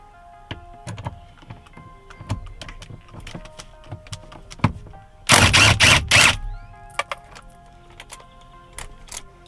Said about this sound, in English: let's get this bolt taken off. We'll be using a 1/2 inch socket